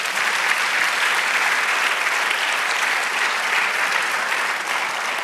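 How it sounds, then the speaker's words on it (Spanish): A church congregation applauding during a sermon, dense and loud continuous clapping from many people that holds steady the whole time with no speech over it. "Dale un aplauso, Señor."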